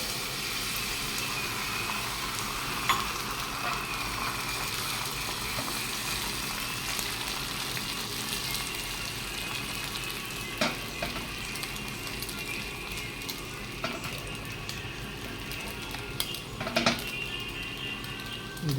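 Egg sizzles in a hot pan for egg toast, with bread already fried in it. The soft, steady frying hiss carries occasional crackles and pops throughout.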